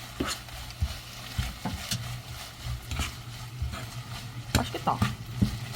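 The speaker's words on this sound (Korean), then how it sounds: "마늘 슬라이스 넣어주고." Garlic slices stir-fry with anchovies in a pan, giving a soft continuous sizzle broken by repeated scraping and clacking strokes of a spatula against the pan.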